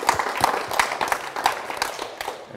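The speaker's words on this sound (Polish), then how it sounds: "Brawa dla pani Sylwii." Audience applause at a Muszkieterów Foundation press conference, a dense stretch of clapping from many hands in a room, lively and fairly close, fading slightly toward the end.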